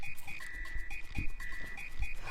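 Frogs at Tadpole Pond in Super Mario RPG croak in a repeating chirpy pattern over soft, low pulsing game ambience, with no talking.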